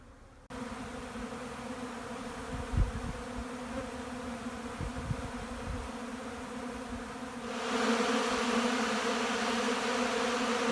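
Honey bees fly around hives in a bee yard during a cold Canadian early spring, giving a steady, dense droning hum of many wings that swells louder toward the end, with no talking.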